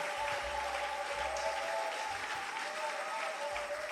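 Church congregation applauding during a sermon, a steady wash of clapping from many people at moderate distance, continuous with crowd murmur underneath.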